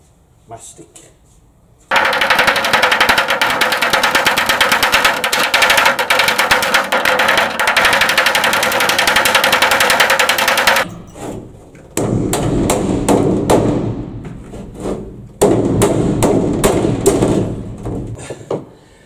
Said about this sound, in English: I'm going to panel beat it a bit flatter